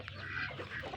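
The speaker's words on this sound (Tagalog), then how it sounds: "So magbibigay na po tayo sa ating peking duck." Peking ducks being fed azolla give a short burst of nasal quacking and honking up close, one or two calls overlapping in about a second.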